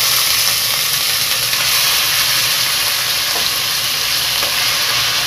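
Pork frying with garlic in a pan gives a loud, steady sizzle with constant hiss and crackle throughout.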